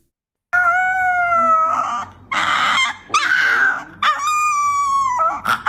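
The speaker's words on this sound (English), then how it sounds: "Oh, poor dog. What did they do to it to do that?" A dog, apparently a husky, howls and whines in long wavering, strongly pitched cries with short breaks between them, loud and close, without any talking over it.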